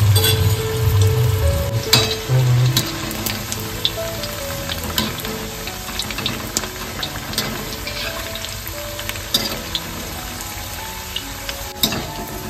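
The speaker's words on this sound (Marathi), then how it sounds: "इकडे बघताय तव्यामध्ये मस्त तेल तापलेलं आहे. इथे सर्व वड्या घालून घेतोय." Alu vadi, sliced colocasia leaf rolls, frying in hot oil in a pan, with a steady close sizzle throughout, a few stirring scrapes and light metallic clinks of utensils against the pan.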